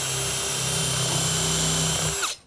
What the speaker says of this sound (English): Now I'm going to go around and pre-drill with a countersink and put some screws in here